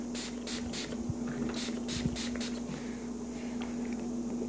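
Lubricant sprayed onto the contact points of a CZ 75 SP-01 Tactical pistol during cleaning: a few close, short hissing bursts over a steady low hum, with faint handling taps.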